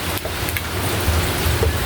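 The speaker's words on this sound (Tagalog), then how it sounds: "grabe yung ulan dito mga idol" Heavy rain pouring outside in a steady, dense wash, loud and continuous without pause, with a faint rumble underneath.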